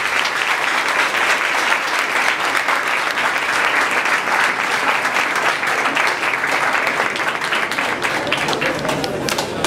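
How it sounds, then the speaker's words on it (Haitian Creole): Loud, sustained applause from a large audience at a cultural center tribute event, dense steady clapping filling the whole stretch with crowd noise mixed in. "Je vais demander un gros applaudissement pour M."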